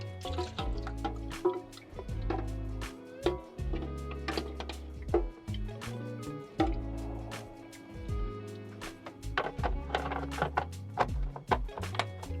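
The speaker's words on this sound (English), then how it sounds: "I'm going to refill the ice cube tray" Water trickles and splashes into an ice cube tray aboard a small sailboat, with irregular drips, squishy clicks and plastic knocks, fairly quiet and close.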